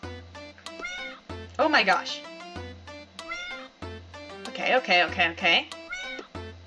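Cats meowing in the video game FurQuest, repeated clear meows and drawn-out yowls over a low looping game tone, with a person speaking briefly between them.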